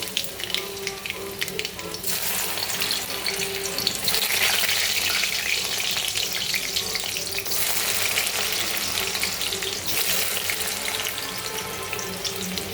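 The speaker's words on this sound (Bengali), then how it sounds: "এবার আমি একটা একটা করে কচু দিয়ে ভেজে নেব" Taro pieces sizzle and crackle steadily as they fry in hot oil tempered with black cumin, a continuous close hiss that swells in the middle and carries on without any talk.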